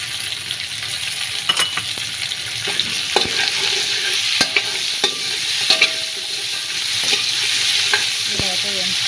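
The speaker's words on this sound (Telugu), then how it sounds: "క్యాప్సికము ఓ టమాటా అయితే వేసి ఇలా అయితే వేయించుకోవాలండి" Onions, ginger-garlic paste, spices, capsicum and tomato fry in hot oil, a steady sizzle broken by repeated sharp scrapes and clinks of a spoon stirring against the pan, close and loud with no talking.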